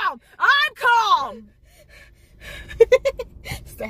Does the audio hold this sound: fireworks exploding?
no